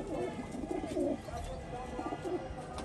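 Pet pigeons cooing close by in a series of soft, low, throaty coos, partly under people talking.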